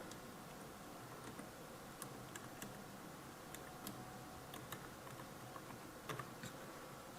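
Computer keyboard typing text in a design program: scattered light key clicks, irregular and fairly faint, over a steady background hiss.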